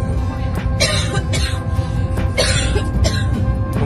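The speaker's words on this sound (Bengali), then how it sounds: "একটু কাশি হয়েছে," Several short coughs break out at intervals over a steady background hum, fairly close and moderately loud, with no speech.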